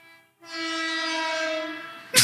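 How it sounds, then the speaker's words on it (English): A very loud train horn blasts in a long sustained chord after a brief quiet moment, then a sharp burst of noise cuts in at the end. "It's the fucking loudest train in the world."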